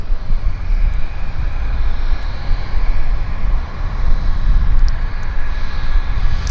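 A WestJet Saab turboprop airliner rumbles steadily at Vancouver Airport, a loud and constant low drone with a faint propeller whine above it, and no voices.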